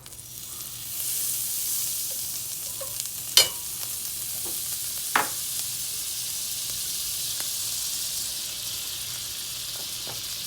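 Jalapeño popper grilled cheese sandwich frying in butter in a pan, giving a steady soft sizzle with a few sharp clanks and scrapes of the utensil.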